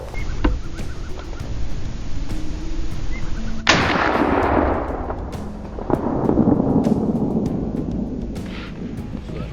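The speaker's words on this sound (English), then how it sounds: "The gunshot stirred the forest into chaos." A loud gunshot cracks through a forest during a wild boar hunt at about four seconds, its boom rolling and echoing off through the trees before fading under steady background noise.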